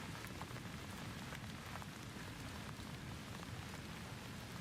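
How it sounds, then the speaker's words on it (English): Steady rain drums on a rooftop at night, a dense, even patter that continues without a break and without thunder, close and constant throughout. "And the rain, as always, would keep falling either way."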